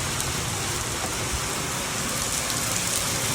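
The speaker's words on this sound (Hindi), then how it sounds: "ये देखें बारिश आ रही है" Heavy storm rain pours steadily outdoors during a sudden downpour, a dense, even hiss of drops on surfaces with no letup and no voices.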